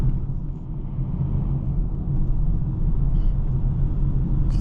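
A 2024 Polestar 2 Dual Motor AWD Performance rolling over road bumps, a steady loud low cabin rumble with soft thumps as the suspension soaks up each bump, no voices.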